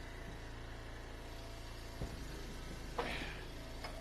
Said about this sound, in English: Nice looking truck, and that diesel engine sounds good.